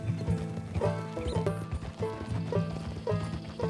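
A horse gallops in Red Dead Redemption 2, its hoofbeats landing as a fast, regular clip-clop in repeating groups with faint mechanical clicks, loud and close with no voices.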